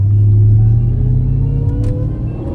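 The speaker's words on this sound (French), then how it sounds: "Le son du compresseur, c'est génial." A supercharged Dodge SRT rated over 800 hp idles and revs up close with a deep, steady engine rumble and a faint rising supercharger whine on top, with no one talking.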